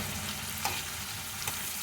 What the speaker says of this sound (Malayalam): നമുക്ക് അങ്ങനെ നിവർത്തി തന്നെ വറുത്തെടുക്കാം